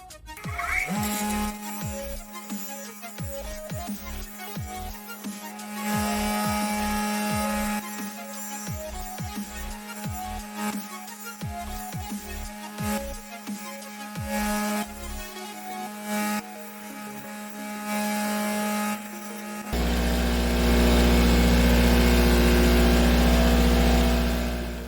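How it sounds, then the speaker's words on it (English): A grinder whines steadily while thinning a part for a USS Defiant model, the high tone holding through repeated short bursts and pauses before a louder, rougher stretch near the end. "For that, I'm just going to use my grinder."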